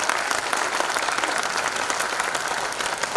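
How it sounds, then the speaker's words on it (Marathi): An audience at an education award ceremony bursts into dense, sustained applause, many hands clapping loudly and evenly throughout with no letup. "वाबळेवाडीच्या नागरिकांसाठी जोरदार टाळ्या वाजल्या पाहिजे"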